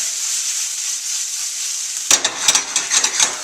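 Onion and garlic fry in a pan, a soft high sizzle that suddenly turns into a run of clattering tosses and scrapes as the pieces are stirred around.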